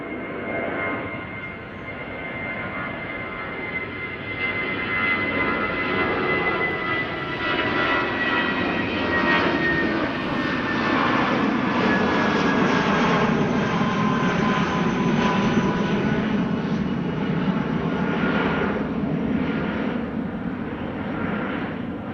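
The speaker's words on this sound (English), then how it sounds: "BA A319, there it is. BA flight 433 to London Heathrow." A British Airways Airbus A319 jet departs Schiphol airport, its engines a loud, sustained roar with a broad rushing tone that holds steady and swells slightly as the aircraft passes, with no talk over it.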